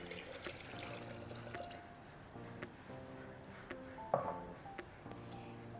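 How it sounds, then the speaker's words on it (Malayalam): Boiled and cooled water, two litres, poured over a kilo of Palayamkodan bananas for a home fruit brew, a steady liquid pour running under soft background music throughout. "ഇനി തിളപ്പിച്ചാറച്ച് വെച്ചിരിക്കുന്ന വെള്ളം, 2 ലിറ്റർ വെള്ളമുണ്ട്."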